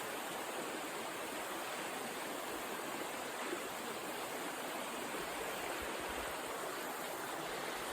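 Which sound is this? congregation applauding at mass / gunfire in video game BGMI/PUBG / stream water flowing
stream water flowing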